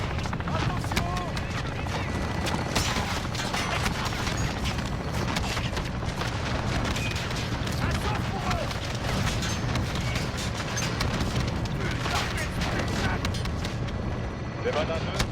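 Gunfire and explosions in the video game Call of Duty Modern Warfare, a loud, dense, continuous battle mix of shots, bursts and booms, with voices speaking over the action.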